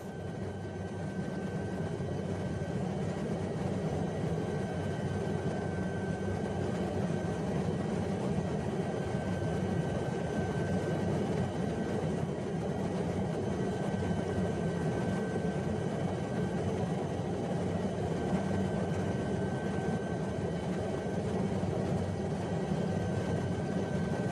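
The engine of an SA315 Lama helicopter in the X-Plane flight simulator drones steadily for the whole stretch, a constant whining hum with a faint sustained tone and no talking.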